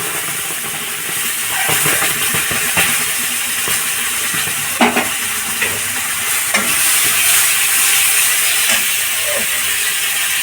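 Tomato-capsicum paste sizzles and hisses steadily in a hot pan while it is stirred, with a few scraping knocks as the spoon moves through it.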